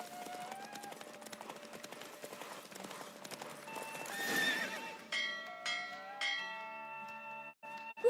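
Horse hooves clip-clopping at a gallop with repeated neighs and whinnies during a horse race in The Witcher 3: Wild Hunt, loud and continuous, with faint game music and chimes layered in toward the end.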